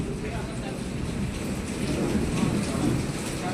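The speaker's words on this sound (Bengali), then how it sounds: "এই দেখো, বৃষ্টির শব্দ হচ্ছে।" Heavy rain falls with thunder, a steady broadband hiss of downpour heard at moderate level with a low rumble swelling underneath toward the end.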